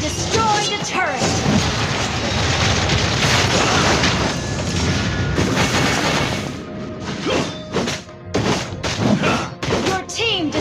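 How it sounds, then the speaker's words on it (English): Game battle audio from Mobile Legends as a turret is destroyed: loud, dense crashing booms and thuds sustained over several seconds, then breaking into choppier impacts with a game announcer voice heard in the mix. "Your team destroyed a turret."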